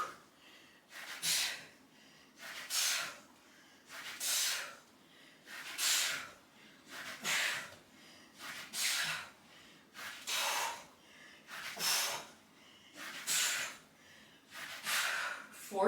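Forceful exhales from someone doing a HIIT core move, about ten sharp breathy puffs in a steady rhythm roughly every one and a half seconds, close and clear with quiet gaps between.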